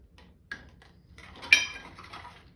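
A utensil stirs wet pancake batter ingredients of milk, egg and oil in a bowl, giving a few light clinks and taps against the bowl that are quiet, sparse and separated by near-silence.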